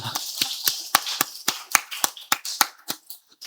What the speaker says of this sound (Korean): 우리 박수도 한번 합시다.